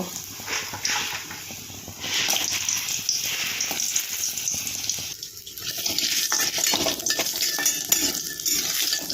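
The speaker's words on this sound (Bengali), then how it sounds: "কড়াইতে তেল গরম করে দিলাম এবার আমি বড়িগুলো একটু আগে ভেজে নেব" Lentil dumplings (bori) fry in hot oil in a kadai, giving a loud bubbling sizzle with intermittent stirring and scraping noises throughout.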